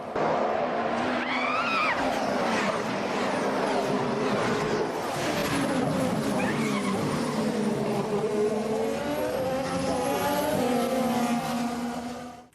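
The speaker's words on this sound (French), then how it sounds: "quelques bruits de freinage où effectivement on entend les pneus qui crissent" Formula 1 cars braking hard, with tyres squealing in long, high-pitched wails over a continuous loud engine roar, sustained for several seconds.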